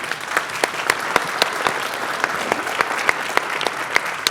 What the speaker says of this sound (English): I'd like to ask everyone to please give him a round of applause